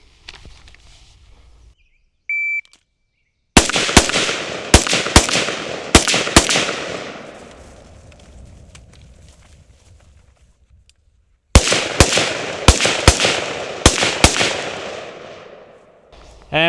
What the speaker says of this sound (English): So that should be 12 shots, technically.